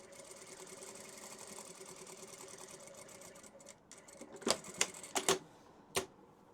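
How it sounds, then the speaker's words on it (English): Home sewing machine running a straight stitch along a fabric edge while making decorative strip curtains, a steady mechanical whir with rapid needle ticking, followed by several sharp louder clatters near the end. "And then we run a stitch right along there, along that edge."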